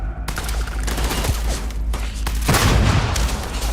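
A grenade blast and gunfire in Starfield, close and loud, with crackling bursts of shots, a sharp burst near the start and a heavier explosion later, the firing almost nonstop.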